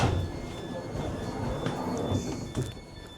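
Steady rumbling and rattling of a GWR Class 230 battery train in motion, with a faint electrical whine over the roar and a soft clunk near the end.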